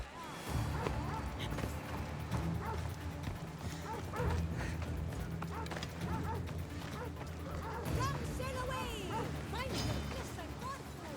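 Dogs bark and yip repeatedly in the Assassin's Creed video game, sharp overlapping barks with some whimpering, mixed with hoofbeats and game noise while a person talks over them.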